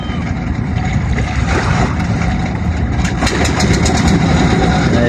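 A trawler boat engine on the Padma river at Mawa starts up and settles into a loud, steady, rumbling chug close by, running continuously through the clip.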